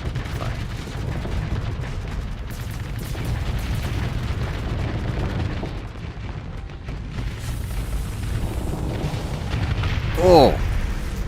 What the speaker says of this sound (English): The full Reaper barrage. That's a lot of Reaper.